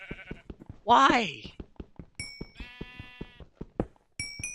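Sheep bleats from the video game Minecraft: one loud, wavering bleat rings out over steady clicking and tapping, and a person talks alongside it.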